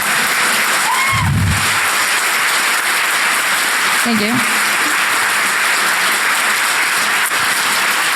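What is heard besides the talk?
audience clapping after conference talk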